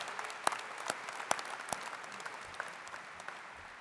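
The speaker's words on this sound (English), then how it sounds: "Clap for that." Scattered hand claps from a small group at a graduation ceremony, crisp and fairly faint, tapering off into a light patter.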